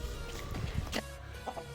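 Aseel and desi chickens clucking nearby, a few soft short clucks over faint background noise.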